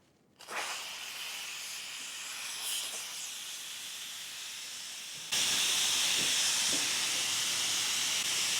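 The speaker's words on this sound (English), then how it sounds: "we can release all of the pent-up pressure from this Instant Pot" An Instant Pot vents its pent-up steam pressure in a loud, continuous hiss that starts abruptly, holds steady, then surges even louder partway through.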